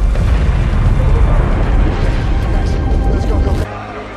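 A giant meteor strikes Earth in a disaster film, a loud, continuous roaring rumble that fills the whole stretch before dropping off abruptly near the end.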